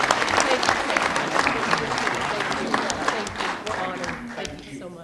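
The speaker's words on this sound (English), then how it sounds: "Let's give them all a big round of applause." An audience at a council meeting applauds a group of young people, with dense, steady clapping throughout that gradually thins toward the end.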